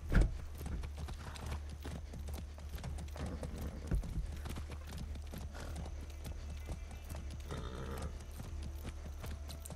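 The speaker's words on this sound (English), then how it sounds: "Horse going too damn fast for me." Horse hooves clip-clop rapidly in the Far Cry 6 video game, a steady galloping patter with an occasional whinny, close and continuous throughout.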